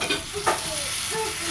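Paddu batter poured into a hot oiled paddu pan hisses steadily, with brief louder bursts of sizzle as each spoonful hits the oil, close and continuous with no talk.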